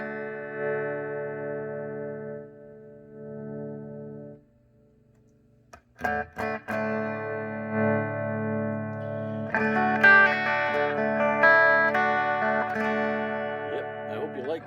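Electric guitar played through a Pignose G60RV amplifier with reverb, sustained chords that ring out, a brief pause, then picked notes building into fuller, brighter strummed chords, with a faint voice at moments.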